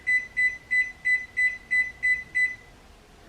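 A kitchen timer being set gives nine evenly spaced, sharp electronic beeps, each brief and close, then falls quiet near the end.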